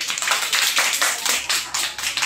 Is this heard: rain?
no